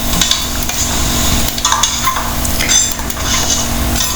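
Thick yogurt stirred into a sizzling biryani mixture with cooked onions in a pot makes continuous scraping and clattering against the metal under steady frying sizzle, with no voices.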